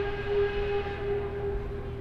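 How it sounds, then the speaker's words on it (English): A train passes nearby at the historic Scranton Iron Furnaces, giving a steady low rumble with a sustained whistle-like tone running over it, continuous and even throughout the short stretch. "Hear the train nearby."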